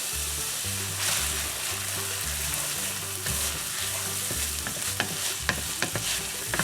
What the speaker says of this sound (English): Let's go ahead and add our garlic. I've got 3 garlic cloves that we've chopped up here.